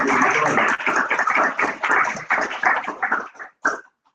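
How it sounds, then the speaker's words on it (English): A live crowd at a Baltimore Muslim community gathering breaks into dense clapping, loud and close, holding steady for about three seconds before thinning into a few scattered claps and stopping. "Give them a round of applause."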